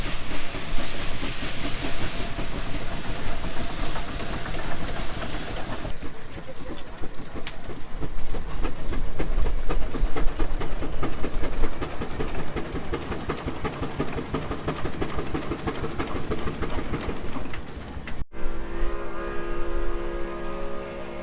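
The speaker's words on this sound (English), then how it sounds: "traction engine making its way around the grounds" A steam traction engine runs with a steady, loud mechanical chug and hiss, continuing throughout with a brief shift in tone near the end.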